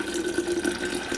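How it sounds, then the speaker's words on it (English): Iced tea pouring over ice in a glass, a steady close liquid stream with a faint splashing texture, heard alone without talk. "I'm pouring it over ice."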